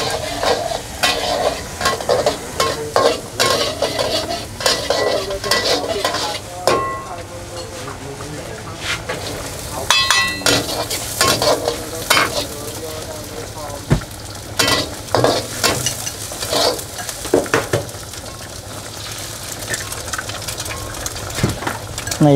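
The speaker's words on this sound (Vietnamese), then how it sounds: "Này là đang làm món cơm chiên pattaya hả vậy?" Pattaya fried rice is stir-fried in a pan at a food stall, with steady sizzling and repeated sharp scraping and clanking of the utensil against the pan, and voices talking faintly in the background.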